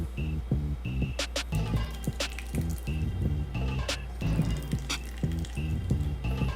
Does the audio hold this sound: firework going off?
no